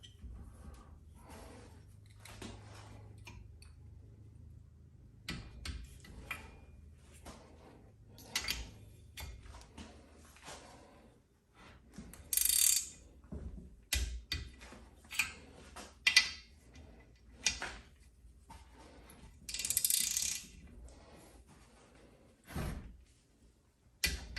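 A torque wrench tightens cylinder head bolts in a cross pattern on a Kawasaki FR730V engine from a Cub Cadet Z Force mower being rebuilt, giving irregular sharp ratcheting clicks and metallic clacks in bursts with pauses between, close up, without talk.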